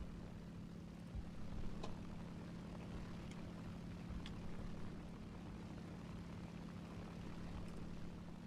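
An enemy aircraft's propeller engine drones in the War Thunder video game, a steady low hum held at an even, fairly quiet level throughout, with faint clicks scattered over it and no talking.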